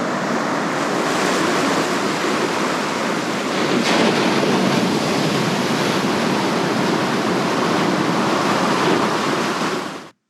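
Ocean waves at Port Stephens, Australia, a broad continuous roar of surf washing in, steady and fairly loud with some wind noise, no voices.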